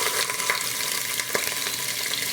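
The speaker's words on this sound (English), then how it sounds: "I'm just browning them a little bit on each side" Beef short ribs browning in a hot Instant Pot, a steady bright sizzle with small crackles and pops, close and continuous with no talking.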